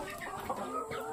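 Chickens around a month and a half old clucking on a farm, a short close burst of clucks over steady background hum.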